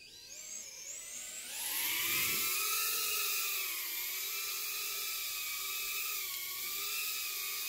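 An EMAX TinyHawk FPV drone flies close by, its tiny motors giving a high, whining buzz that climbs sharply in pitch and then holds a steady, slightly wavering whir, loud and alone.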